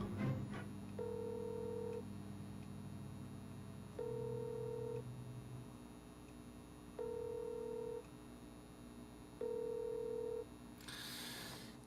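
A telephone ringback tone on a call: four evenly spaced tonal beeps, each about a second long, repeating every few seconds over a low hum, ending in a burst of noise.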